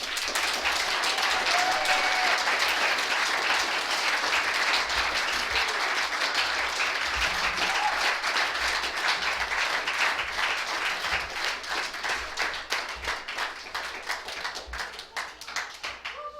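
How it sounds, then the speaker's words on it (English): Sustained applause from a large crowd, dense steady clapping throughout that slowly thins toward the end. "let's give our speaker another round of applause"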